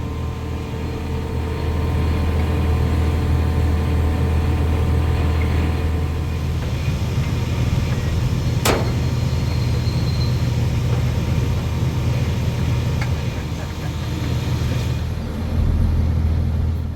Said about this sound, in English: the lift happens quickly, the lathe comes off the skid and into the air, and the Franna makes light work of moving it inside the workshop